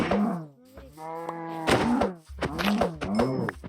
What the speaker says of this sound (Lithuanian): Karvių iš karto.